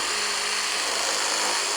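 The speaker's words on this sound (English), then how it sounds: "I'm curious to see how the reciprocating saw handles this." Makita DJR189Z compact 18V cordless reciprocating saw cutting through a tree trunk, a loud, steady, high-pitched buzzing drone throughout.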